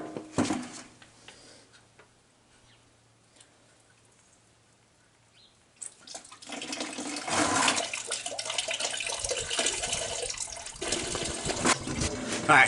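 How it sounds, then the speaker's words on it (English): Engine coolant gushing out of a Farmall Cub tractor, quiet at first, then a loud, steady splashing pour of liquid that runs for several seconds nearby. "Oh, I forgot to drain the coolant, so I got coolant coming like crazy."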